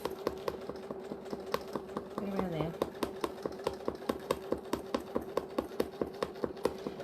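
A sewing machine stitches through several thicknesses of faux leather, its needle thumping in a fast, even rhythm with a low motor hum; a brief voice murmurs partway through.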